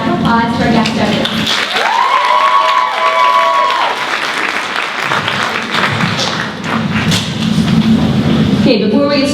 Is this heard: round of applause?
yes